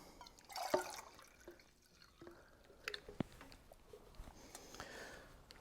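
Water poured into a cup to heat for oatmeal on an Esbit pocket stove, heard as faint, close trickling and dripping with a few sharp splashes and clinks over about five seconds, with no talking.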